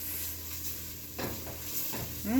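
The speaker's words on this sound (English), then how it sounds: "Let's stir all of this." Chourico, onion, garlic and a bay leaf stirred in a hot pan: a low sizzle broken by a few scraping utensil strokes, close and without talk.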